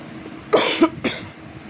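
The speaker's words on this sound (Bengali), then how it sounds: "যে কাশি আছে হালকা, কথা বলতে গেলে কাশি উঠছে।" Two or three harsh coughs from a person lying down while unwell, a loud first burst followed by a shorter one and a weaker third, close to the microphone with no talking.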